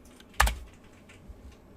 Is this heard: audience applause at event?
no